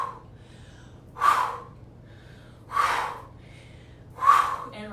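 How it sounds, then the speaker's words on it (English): Three forceful breathy exhales at a steady interval of about one and a half seconds, each a loud rushing burst, during a shamanic yoga breathing practice, with quiet gaps between them and no talking. "You're going to exhale"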